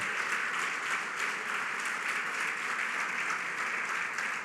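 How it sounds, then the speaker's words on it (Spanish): A church congregation claps in praise, a sustained, even wash of many hands at moderate distance, without pauses or swells. "Dale fuerte el aplauso a Él"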